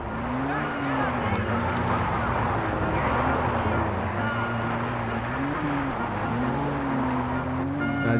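Car engine in the Far Cry 4 video game, a steady loud drone that rises and falls with throttle changes, with tire noise throughout, continuous for the whole stretch.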